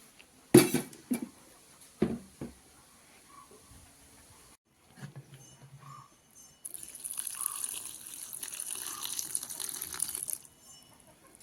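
Tender chickpea leaves being washed by hand in water, heard as a few sharp splashes and clinks of a vessel, then quiet, followed by a steadier swishing, running-water sound toward the end, with no speech.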